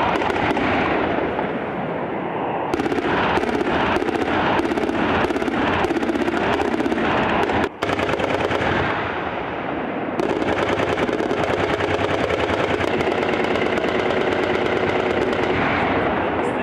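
Loud, dense bursts of automatic gunfire and heavy weapons fire during a Lebanese army assault on the Ras al-Kahf stronghold in the Jroud mountains, with rapid repeated shots and sustained roaring barrage throughout, no talk.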